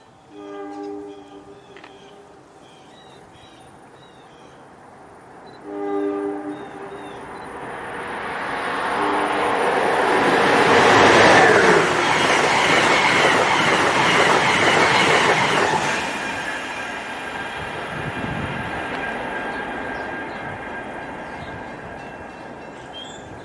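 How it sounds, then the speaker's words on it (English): An Amtrak Northeast Regional train passes through Princeton Junction, opening with a horn blast before a loud, swelling rush of wheels and cars that peaks mid-pass and then fades to a lingering rumble. "Passing through now is Amtrak Northeast Regional"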